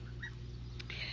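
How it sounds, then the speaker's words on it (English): Geese on a ranch call out in a short, faint burst of honking, with a low, steady background hum underneath. "the geese is being loud"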